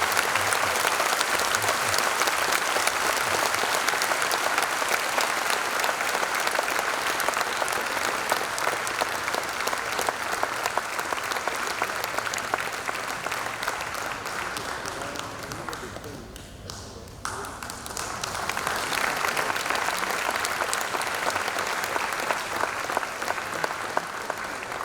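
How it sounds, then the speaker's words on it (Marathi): A large audience at a Marathi cultural gathering in Sydney claps loudly to welcome a guest, sustained dense applause that dips briefly partway through before resuming strongly. "प्लीज आपण जोरात टाळ्या वाजवून सिडनीला शोभेल असं त्यांचं वेलकम करा"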